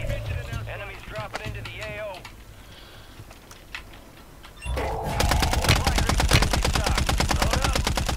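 Rapid bursts of gunfire crackle in quick succession, loud and dense after a stretch of voices and quieter game sounds.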